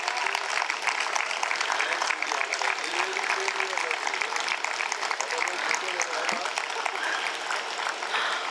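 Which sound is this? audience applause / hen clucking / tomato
audience applause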